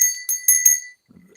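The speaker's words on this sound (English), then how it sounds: "This is a bronze bell." A bronze bell rings in four quick, bright strikes with clear sustained overtones, each note bursting loud then fading, followed by a soft low rustle after the ringing stops.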